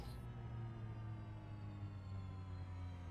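Aircraft engine in a TBM flight simulator game spooling down, a steady low droning hum with faint tonal whine holding at moderate level throughout, no voices.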